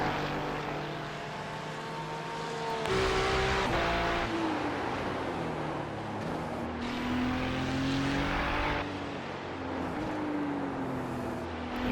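A GT3 race car engine on a tight track drones and revs continuously, with its pitch rising through the gears, dropping on downshifts and climbing again, loud and close with no talking.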